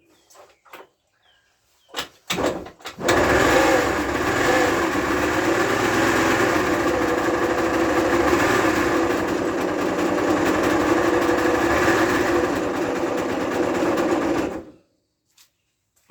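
A four-stroke engine starts and runs steadily for about twelve seconds with a rubbing, grinding mechanical noise, loud and close, preceded by a few knocks and ending abruptly when shut off.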